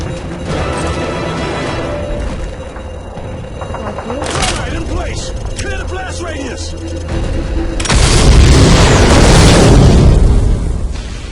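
A bomb explosion in Call of Duty MW3 gameplay: mechanical game noise and chatter give way to a loud, sustained booming blast with rumbling debris near the end.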